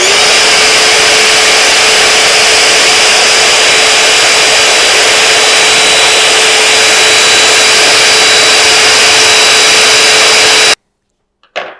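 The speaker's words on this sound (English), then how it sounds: "You can take your small vacuum and clean that up as well while you're in here." A loud, steady whine of a small vacuum cleaning dust inside a SNOO bassinet, running continuously at a constant pitch, then abruptly switching off near the end.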